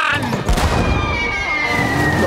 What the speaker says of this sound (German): Kanonenkugel abfeuern!